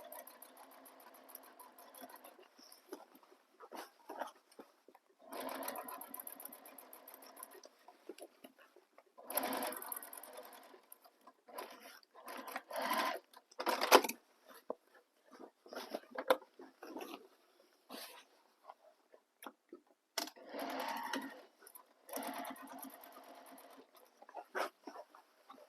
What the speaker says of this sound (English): Start at the top, back stitch, and then just stitch all the way down.